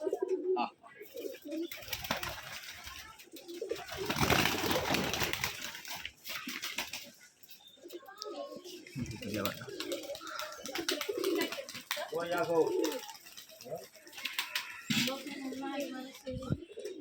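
Rajshahi gerebaj pigeons at a farm coo in soft, throaty, repeated calls close by, rising and falling over the stretch while a person talks over them at times.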